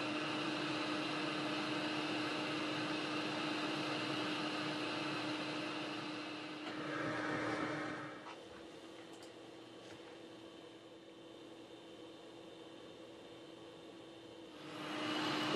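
A hot air rework station set between 300 and 450 °C blows over a Xiaomi phone board during CPU and memory repair. It gives a steady, close whooshing drone with a faint hum that dips partway through and then swells again.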